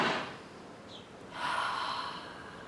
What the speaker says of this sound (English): So take a breath with me now.